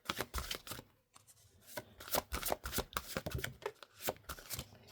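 Tarot cards shuffled by hand close up, a quiet, rapid riffling and flicking in short bursts with brief pauses, no talking.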